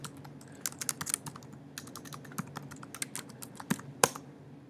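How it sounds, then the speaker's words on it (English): Keystrokes clatter on a computer keyboard while someone types code, a quick irregular run of sharp clicks up close with a few louder taps, no voice over them. "if I were to type this with a capital letter"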